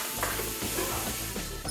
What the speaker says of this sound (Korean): 애호박과 피망을 냄비에 넣고 살짝 부드러워질 때까지 약 8분간 조리합니다.